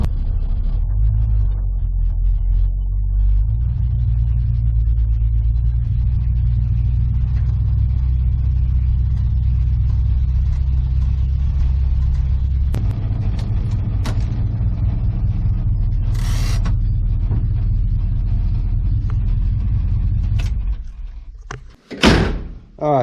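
A 1959 Dodge Coronet's engine rumbles low and steady for a long stretch while reversing into a shop. Near the end it cuts out, followed by a couple of sharp thuds like a door closing.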